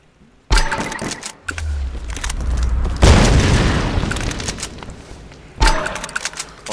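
A loud explosion in Tomb Raider: a sudden heavy boom that rolls on for a few seconds, with a second blast near the end and short impacts and rattling in between.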